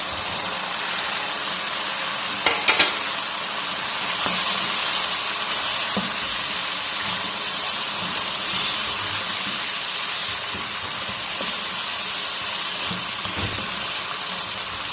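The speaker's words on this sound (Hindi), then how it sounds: "अब इसके अंदर हम शामिल कर देंगे क्यूब शक्ल में जो हमने शिमला मिर्च और प्याज काटा हुआ है" Cubed capsicum and onion frying over high heat in a pan for Lahori-style chicken jalfrezi, a loud, steady hiss of sizzling throughout with a few faint stirring scrapes and no talking.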